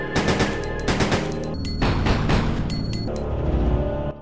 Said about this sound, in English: now let's try it with burst fire